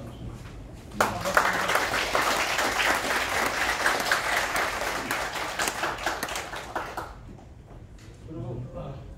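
An audience applauds guests introduced at an opening ceremony, a dense burst of clapping that starts suddenly, holds for several seconds, then stops, followed by a voice over the public address.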